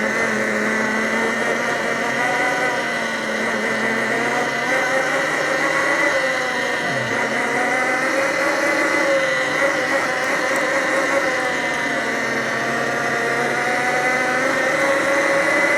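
Nexvey Flash 48-volt electric dirt bike being ridden, giving a steady electric motor whine that swells and eases with the throttle, heard close with constant wind and road noise beneath.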